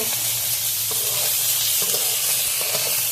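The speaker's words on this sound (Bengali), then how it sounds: "মাছগুলো খুব বেশি ভাজবো না হালকা একটু নরম হলে আমি নামিয়ে নেব" Bitter gourd pieces frying lightly in oil in a kadai, a loud, dense, continuous sizzle close up, with faint stirring scrapes underneath.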